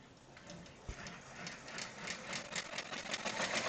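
Soft, quiet mechanical whirring and rapid rhythmic needle patter from an embroidery machine stitching out an insect garden design, with a faint thump near the start and the machine noise building slightly toward the end.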